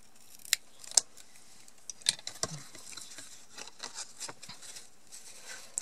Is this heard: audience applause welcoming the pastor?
no